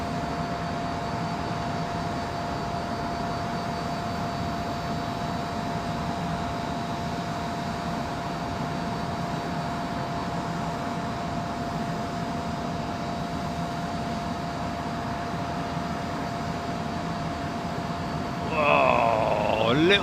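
Jet aircraft departing runway 27L at London Heathrow: a steady, distant engine roar sustained throughout, with a brief louder burst near the end.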